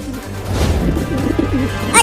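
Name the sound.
pigeon cooing in a cartoon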